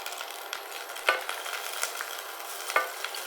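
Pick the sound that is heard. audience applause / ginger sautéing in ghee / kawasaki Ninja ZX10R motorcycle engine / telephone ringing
ginger sautéing in ghee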